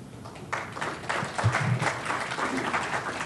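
An audience claps after a conference talk on network functions virtualization, a steady moderate wash of applause from a room of listeners with faint voices mixed in.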